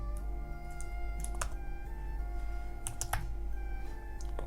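Computer keyboard clicking in quick, irregular bursts of keystrokes, close and fairly quiet over a steady low hum, no one speaking.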